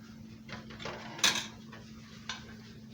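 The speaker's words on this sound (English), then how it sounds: "So I'm gonna take these bacon off of here." Cooked bacon is lifted out of a pan with a utensil, giving a few light metallic clinks and scrapes, one sharper clack near the middle, over a faint steady background hum with no talking.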